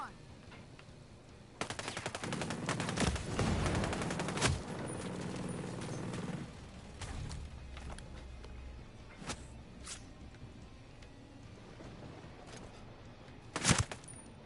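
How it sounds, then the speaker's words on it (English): A firefight in the video game Ghost Recon Breakpoint: sustained automatic gunfire rattles for several seconds, then scattered single shots follow, with a sharp loud burst near the end, fairly close and without voices. "I think we're at a firefight now"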